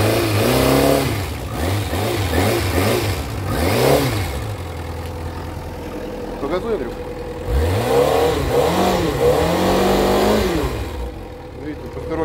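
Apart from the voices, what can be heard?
motorcycle engine revving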